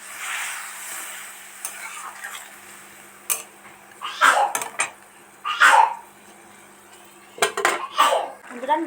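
A spoon scrapes and clinks against a pan as a vegetarian mixed-vegetable curry is stirred with a little water, in intermittent bursts of clatter with quiet gaps between, close and fairly loud.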